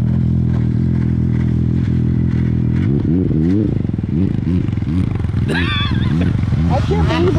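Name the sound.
snowmobile engine revving, stock tune with muffler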